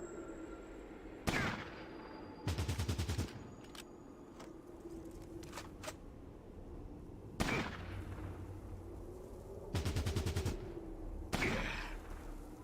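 Sniper rifle shots in a Fallout game ring out as sharp, loud cracks, some single and some in short rattling bursts, spaced a few seconds apart over a low ambient game background.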